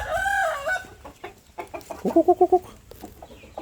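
Young Burmese chickens in a farm pen: a nearby crow-like call opens, then a burst of loud, rapid clucks in a quick run of about five notes, followed by scattered quieter clucking.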